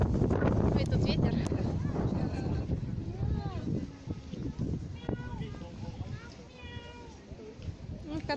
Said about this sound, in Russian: Ой, тут ветер.